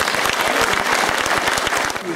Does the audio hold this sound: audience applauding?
yes